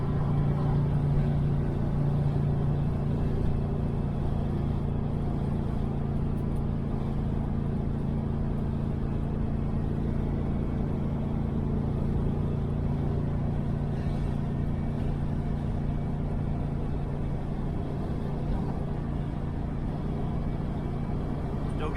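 A 1968 Chevelle Nomad cruising on the highway with its sunroof open, giving a steady low road and engine rumble with broadband wind rush that stays constant throughout.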